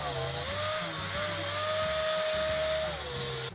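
An angle grinder smooths a freshly welded seam at the bend of a steel pipe section, a steady high whine with shifting pitch running continuously and loud, with no talk.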